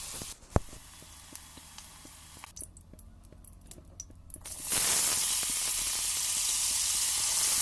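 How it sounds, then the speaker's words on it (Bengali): Potato slices hit hot oil with salt and turmeric after raw banana has been fried; soft pan clinks and light taps give way to a loud, sustained sizzle, with no talk. "আমার কাঁচা কলাটা ভাজা হয়ে গেছে, নামিয়ে নিয়েছি। এখন আমি আলুটাকেও নুন হলুদ দিয়ে ভেজে নিচ্ছি।"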